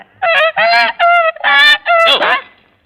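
Loud, nasal goose honks in a steady series of five calls, close by, with no other sounds.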